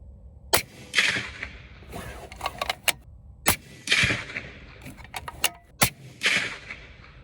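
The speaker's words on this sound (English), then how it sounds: "The first rounds we're going to shoot are some LRXs." Several sharp 6.5 Creedmoor rifle shots fired on a range with Barnes LRX handloads over 4350 powder, each loud crack followed by a short decaying report, spaced a few seconds apart with quieter clicks and handling noises between.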